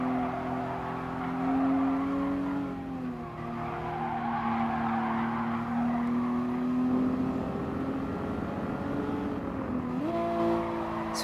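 Toyota race car lapping the Nordschleife in GT Sport, its engine note held steady through a gear change, with a shift and tyre scrub near the end. The sound stays loud and continuous, with no talking.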